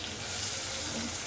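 Chopped onion fries in hot oil with a steady, even sizzle, close and moderately loud, and no talking.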